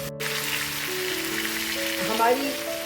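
Salted chicken pieces frying in hot oil for biryani give a continuous close sizzle and crackle, with faint tonal hum in the background and a slight swell near the end.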